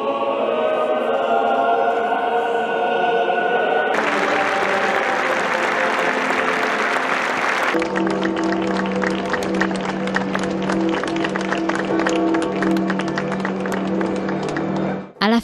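Faithful in a crowd applaud and cheer as Pope Francis's funeral convoy heads toward the Basilica of Santa Maria Maggiore, a sustained wash of clapping that shifts between distinct sections, with steady tones and voices mixed in.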